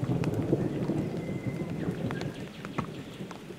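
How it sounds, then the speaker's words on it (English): Steady winter rain falls in the forested Dandenong Ranges as a storm rolls in, a dense continuous patter with low rumbling beneath and a few sharper drips standing out. "the temperature drops as the storms roll in."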